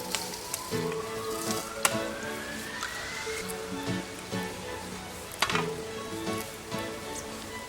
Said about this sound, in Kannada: ಇದನ್ನು ಫ್ರೈ ಮಾಡಬೇಕು ತುಪ್ಪದಲ್ಲಿ.